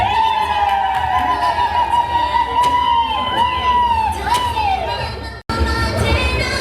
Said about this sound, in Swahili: shangwe na vigelegele.